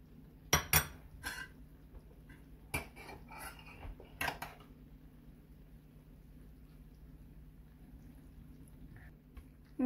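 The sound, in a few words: adding a layer of rice to chicken biryani pot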